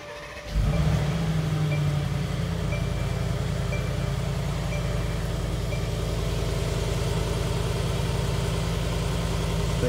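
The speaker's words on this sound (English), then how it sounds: "foot on the brake, engine start stop" A lifted Mercedes-Benz AMG G63 G Wagon fires up with a sharp start, then settles into a deep, steady idle with a constant low rumble up close.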